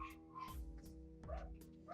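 Pet dogs in a home give a handful of faint, short yapping barks spread over two seconds, distant and quiet, with no voices present.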